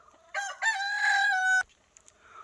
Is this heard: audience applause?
no